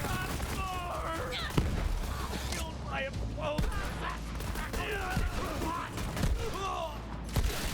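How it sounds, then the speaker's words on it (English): Shotgun gunfire in the video game Borderlands 3: a few sharp, punchy blasts ring out among busy in-game effects and background noise, heard at moderate loudness with no talking. "Look at recoil on this shotgun."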